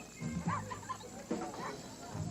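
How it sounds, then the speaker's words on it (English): Dogs bark in a Bud Light beer commercial, a few short barks in two bursts mixed with voices and background sound, moderately loud. "Dogs."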